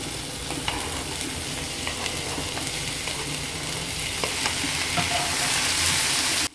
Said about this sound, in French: Là que j'ai bien chauffé l'huile, je vais ajouter les ingrédients tout doucement.